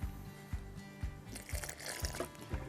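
A small amount of water poured onto slightly dry potting soil around a lungwort plant being set in a container, making soft splashing and gurgling with a few quick bursts close by.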